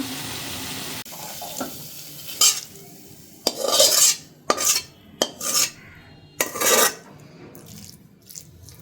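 Fried tomatoes being stirred and mixed with spices in a pan, a spoon scraping in several distinct sweeps with clinks of metal, fairly close and with no talk.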